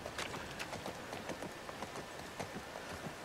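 Horse hooves clip-clop in a steady walking rhythm in the video game The Last of Us Part II, close and moderately loud, with no talking.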